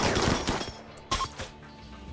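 Gunfire erupts in the colony game RimWorld: a few sharp, loud bursts of shots at the start, then scattered single cracks and a brief volley that fade out.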